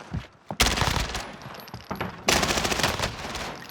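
Rapid automatic gunfire in the battle royale game Warzone, solo mode, in two loud sustained bursts separated by a short pause, preceded by a couple of single shots, with no talk over it.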